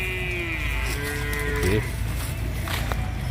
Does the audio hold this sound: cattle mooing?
yes